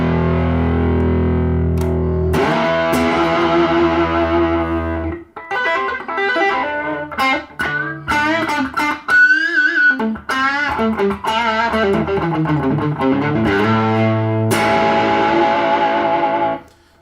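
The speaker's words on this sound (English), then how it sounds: "And then last for the drives is the Rat" Electric guitar played through a Rat distortion pedal, loud and close: thick sustained distorted chords ring out, then a run of fast bent lead notes and short stabs, ending on another long held chord.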